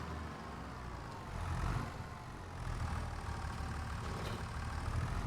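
A small tractor's engine idles steadily in Farming Simulator 25 while being eased into a tight parking spot, a low continuous rumble with a slight rise in revs partway through.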